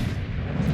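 A heavy, booming salvo from the forward main guns of the Daisen, a Tier 8 Japanese battleship in World of Warships Legends, a single deep, loud low rumble filling the short moment.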